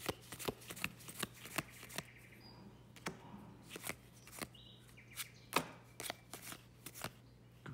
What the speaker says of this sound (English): Trying to get these open without ripping the